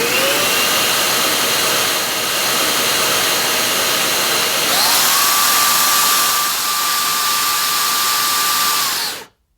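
Henry Quick cordless vacuum cleaner with a new pod running a sealed suction test, a loud steady whine that steps up in pitch midway, as if switching to boost, then cuts off abruptly.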